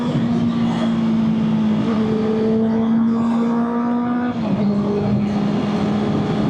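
Motorcycle engine on the NLEX expressway, recorded through a helmet-mounted mic: a steady, loud drone with a sustained tone that shifts pitch slightly partway through, wind rush throughout, no talking.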